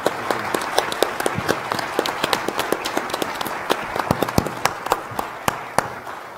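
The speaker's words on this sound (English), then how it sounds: "Let's give them a round of applause for being a good audience." Audience at a Bush Center thought leader event applauding, a moderate crowd of distinct, crisp handclaps in a busy, fairly close, irregular patter throughout.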